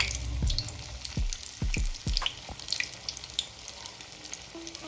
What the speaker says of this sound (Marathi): भज्याला पलटी मारून घेऊया आणि छान गोल्डन कलर येईपर्यंत तळून घ्यायचे आहे आपल्याला भजी